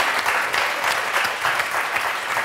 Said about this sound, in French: On va applaudir très fort Liliane et Christine